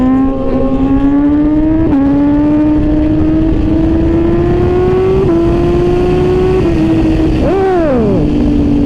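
Motorcycle fitted with a newly installed quick shifter revving hard, loud and close, its engine note climbing through several quick upshifts with brief dips between gears, then dropping off sharply near the end.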